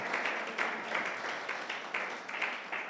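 A church congregation applauds together, the clapping dense and steady with a rhythmic pulse, filling the space.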